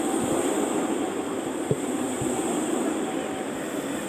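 Prague T3 tram 5572, a maintenance-of-way car, rolls along street rails with a steady broad rumble, a high squeal-like tone above it and a few soft clanks from the wheels.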